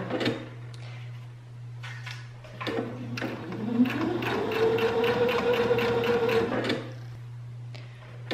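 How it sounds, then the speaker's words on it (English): A sewing machine runs a straight stitch along the edge of a storage bag: a few short starts and stops, then a longer steady whirring run before it halts. "I'm gonna sew all the way down the edge"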